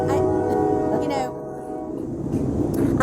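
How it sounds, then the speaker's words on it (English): A train passes through close by, a loud, steady rumble of rail cars with a horn-like tone sounding over it. Voices can be heard alongside it. "I love it when the train comes through"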